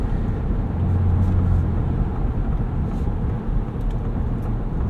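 A steady low rumble of road and tire noise fills the cabin of a 2024 Ford Ranger Raptor cruising along, continuous and moderate with no voices over it.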